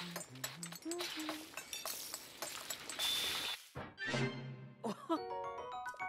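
Kitchen clatter from cooking in The Legend of Zelda: Tears of the Kingdom, a jumble of clinking and chinking like dishes and smashed plates, with bright tonal chimes and a descending jingle at the end, fairly loud and busy throughout.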